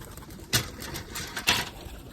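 Domestic pigeons kept on a rooftop give soft coos, with two sharp bursts of wing flapping about a second apart, close and fairly loud against a quiet background.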